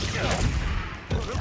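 Confringo blasting curse going off in the Hogwarts Legacy video game, a loud dense crackling blast that rumbles through the clip and flares again near the end.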